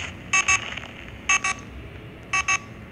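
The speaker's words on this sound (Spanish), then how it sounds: "Creo que también hay una alarma" Three pairs of short electronic beeps repeat at regular intervals over a low background hum, an alarm sounding in the game Emoji Survival.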